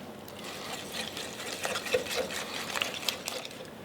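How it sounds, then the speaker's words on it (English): A whisk stirs a soft, slightly lumpy filling of ricotta, mascarpone and cream cheese in a bowl, making quick, close, irregular scraping taps with no talk. "I'm going to switch over to a whisk because that cream cheese is soft, but it's still a little lumpy"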